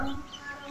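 Chickens on a farm giving a brief, soft cluck followed by faint chirpy fowl calls nearby, quiet overall.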